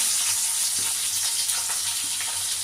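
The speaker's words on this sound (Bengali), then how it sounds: "এবার আমি পেঁয়াজ কুচিটা দিয়ে দিলাম" Chopped onions dropped into hot oil in a pan, frying with a loud, dense, continuous sizzle and hiss that stays steady for the whole stretch, no talking.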